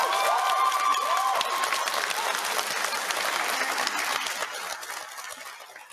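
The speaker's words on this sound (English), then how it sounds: "There was this huge wave of applause" A large audience bursts into loud applause with some cheering, the clapping sustained and then gradually tapering off toward the end.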